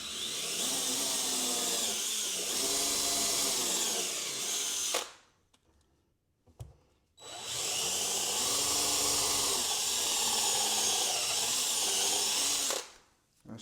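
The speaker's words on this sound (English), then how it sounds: "Then you want to take and pre-drill in that mark." A power drill bores pilot holes for mounting a Rev-A-Shelf tip-out tray in a cabinet, two long steady whirring runs of about five seconds each, loud and close, separated by a brief pause with small clicks and handling noise.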